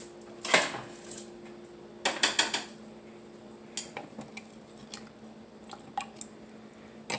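Homemade cough syrup being stirred, a utensil clinking against a pot and scraping through garlic and onions, with sharp clatters separated by quieter wet, squishy stirring close by.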